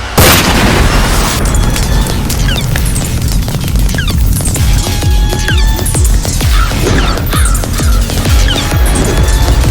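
Firecrackers bursting in a crowded fight scene, a loud sharp bang at the start followed by continuous booming, crackling and crashing that stays dense and loud throughout.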